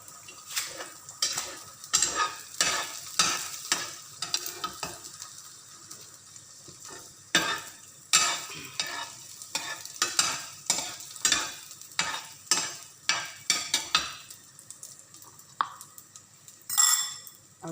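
Egg frying in a pan, with a soft sizzle under repeated scraping and clinking strokes of a utensil against the pan, stirred in an uneven rhythm up close, no voices.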